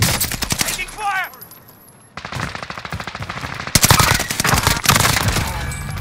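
Video game gunfire from a battle royale match, with loud rapid automatic bursts and chattering volleys over game sounds, broken by a short pause, while in-game voice lines are spoken.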